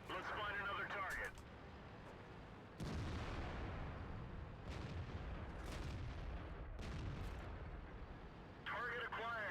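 Tank cannon shots from a T-44 in a video game ring out as heavy booms with rumbling decay, one loud burst near the start and another near the end, with game voice lines and background battle noise between them.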